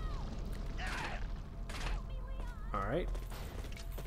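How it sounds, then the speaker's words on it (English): A door creaks open behind the player in the survival-horror game Resident Evil, a short mechanical creak and clunk over steady game ambience, with someone talking. "Just heard a door open behind me"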